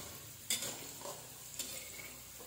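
Potato pieces being fried and stirred in a pan, a faint steady sizzle broken by two sharp utensil scrapes and clinks, quiet and close.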